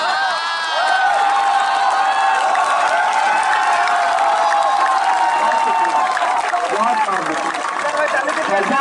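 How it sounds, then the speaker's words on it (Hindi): A large audience at a mushaira applauds loudly and steadily, a dense wash of clapping with scattered cheers and whoops heard close throughout. "तालियों का शोर थोड़ा और बुलंद करें,"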